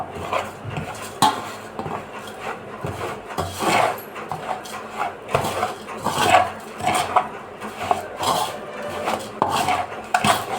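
Besan laddu mixture worked in a pan as sugar syrup is added bit by bit: close, busy scraping and clinking of a spoon against the pan in uneven strokes throughout, with no talking.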